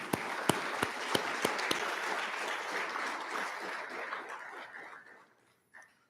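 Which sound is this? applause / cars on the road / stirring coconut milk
applause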